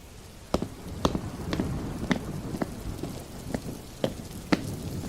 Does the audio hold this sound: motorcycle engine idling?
no